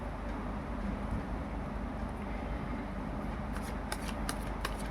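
Tarot cards are shuffled close up in a continuous dense rustle and riffle of card against card, with a few sharper flicks toward the end and no talking.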